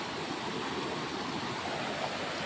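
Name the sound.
flowing clear creek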